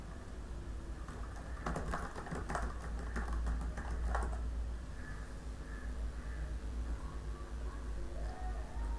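Keys on a computer keyboard are tapped in a short quick flurry of clicks near the start, over a steady low background hum, then stop and leave only the hum.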